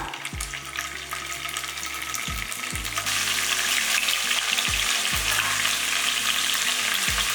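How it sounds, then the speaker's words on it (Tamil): Steady, loud sizzling of paneer cubes frying in hot oil throughout, with occasional low thumps and stirring clatter; no one speaks. "ஃபஸ்ட்டு வந்து எண்ணெயிலேயே பொறிச்சு எடுத்துக்கலாம் லேசாக"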